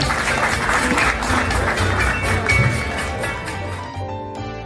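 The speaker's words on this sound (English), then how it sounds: "Please give them one more round of applause." Applause from a live audience at a magic show fills the opening seconds, then fades out as a low hum and a faint tonal sound remain.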